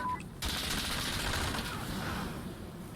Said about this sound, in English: You wanna stop shooting me?